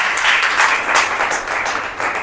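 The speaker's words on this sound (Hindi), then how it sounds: "ताली बजाकर प्रभु को धन्यवाद।" A church congregation clapping in thanks to God, a loud, dense burst of many hands clapping together, close and continuous throughout with no speech over it.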